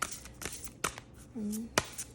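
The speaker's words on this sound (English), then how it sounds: "But it is shuffling the cards like more than I usually do it" Oracle cards being shuffled by hand, a few sharp papery card slaps and riffles spaced across the moment, close and fairly quiet, with a brief low tonal hum in the middle.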